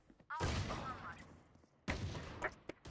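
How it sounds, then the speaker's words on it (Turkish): Two loud, close gunshot bursts from a Classic pistol in the shooter game Valorant, each followed by a lingering decay, with brief quieter clicks between them. "Klasikle bitirelim mi?"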